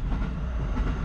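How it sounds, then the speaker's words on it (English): A train passes near an outdoor air-conditioning unit, filling the moment with a continuous low rumble and rolling rail noise that stays steady and fairly loud, with no voices. "Train went by there."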